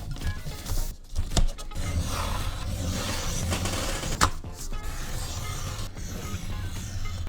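An office printer whirs and clunks mechanically while printing trading cards. The motor drone is steady and close, broken by a few sharp feed clicks, with no talking.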